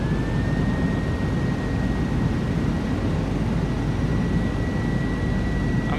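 An F-16 jet taxiing along a runway in a flight simulator game, giving a steady, loud engine roar with a thin whine held throughout and no voices.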